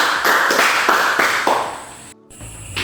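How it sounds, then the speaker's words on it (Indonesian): Children in a small church group clap in a handful of distinct rhythmic beats, close and moderately loud, that trail off before a brief gap and some low rumbling noise. "Tepuk tangan untuk anak"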